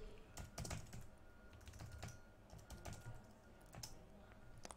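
Quiet, rapid keystrokes on a computer keyboard as a command is typed into AutoCAD, with irregular clusters of clicks and short pauses between them.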